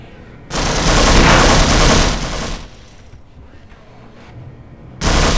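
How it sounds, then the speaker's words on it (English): Sustained bursts of rapid gunfire in the video game Half-Life, a roaring volley lasting about two seconds, a quieter stretch of distant shots and echoes, then another sudden loud burst. "we want something that can just fire lots of shots."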